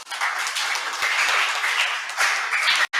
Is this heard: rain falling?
no